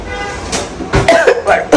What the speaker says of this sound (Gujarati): બોલું તો ઉધરસ ઉપડે છે